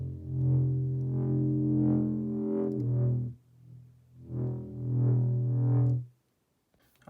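Neuro wub bass patch built in the Serum synthesizer with modulated distortion, two long growling, pulsing bass phrases with a rhythmic wobble, separated by a brief dip and ending in silence.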